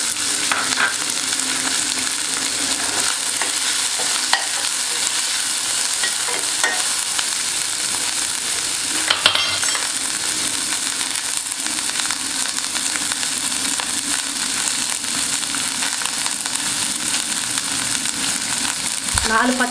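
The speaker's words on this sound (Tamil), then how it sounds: "2 ஏலக்காய், ஒரு ஸ்டார் அனீஸ், ஒரு மராட்டி மொக்கு லைட்டாக அது ஃப்ரை ஆகட்டும்." Cardamom pods, star anise and shallots fry in hot oil in a pan while cooking a mushroom biryani, giving a steady, close sizzle and crackle with occasional stirring scrapes, no voice.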